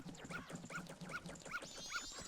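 Repeated yelping dog barks and whimpers from the Clock Town dog in the Zelda game Majora's Mask, five rhythmic bursts over steady game background sound with a rising chime near the end.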